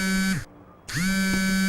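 A mobile phone set to vibrate buzzes in two loud, steady bursts with a short silent gap between them, close by and with no talk.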